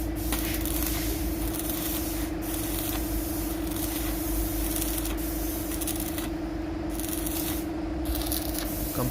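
A spray can or gun hisses steadily and close up while painting a welded tyre carrier for a Nissan Pathfinder R50, with a few short breaks in the spray near the end.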